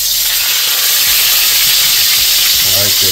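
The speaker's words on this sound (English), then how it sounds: "Can you hear it? Can you hear that sizzle?" Loud, steady sizzling of whiting fish frying in butter in a hot pan, a dense hiss throughout with a voice briefly speaking near the end.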